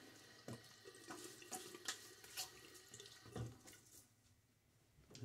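Water runs steadily from a sink tap during a wet shave, a soft continuous splashing with small bumps and knocks as hands move under the stream. The sound stays close but quiet, with no talking.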